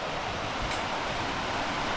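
A small mountain stream in a forest on the Canigou trail flows steadily, a continuous broadband rush with no voices.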